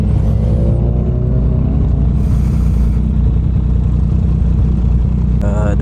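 A Yamaha MT09 motorcycle engine rumbles loud and continuous while riding, a deep steady drone with rising and falling tones and wind rush throughout.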